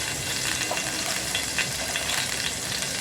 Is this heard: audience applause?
no